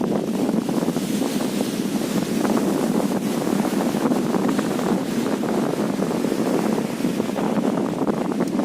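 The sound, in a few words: strong wind blowing into the microphone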